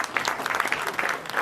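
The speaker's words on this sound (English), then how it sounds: "Let's give a good clap." Audience applause after a talk on Industry 5.0 at a conference at The Michuki National Polytechnic, a steady burst of many hands clapping for a short spell, fairly close and dense with no voices.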